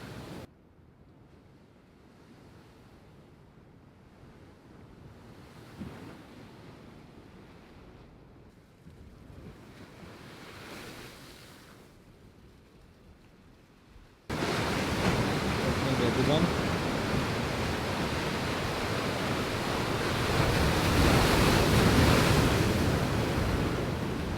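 Ocean waves crash onto rocks along an Australian coastline, a faint wash of surf and wind at first, then a sudden loud, continuous roar of heavy breaking water that swells further toward the end.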